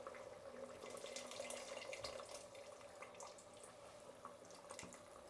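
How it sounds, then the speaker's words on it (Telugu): Tamarind juice is poured into a pan of cooking vegetables, a quiet, continuous trickling stream with a few faint clinks, heard alone. "అలాగే చింతపండు పులుపు కానీ పోసేస్తున్నాను"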